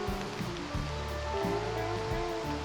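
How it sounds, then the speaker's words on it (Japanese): Steady rain falls outside on a humid day, a continuous soft hiss and wash of water with no voices over it. "雨は嫌ですね。"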